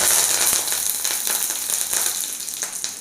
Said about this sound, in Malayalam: കടുക് പൊട്ടിക്കഴിഞ്ഞ് അതിലേക്ക് നമുക്ക് 2 കരിവേപ്പിൻ്റെ ഇലയും കൂടി ഇട്ട് കൊടുക്കാം.